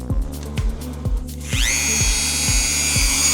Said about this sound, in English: where's my Dremel? Do a little bit of plastic cutting again.